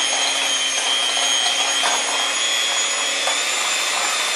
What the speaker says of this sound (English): I'm going to go ahead and beat my egg whites until they get stiff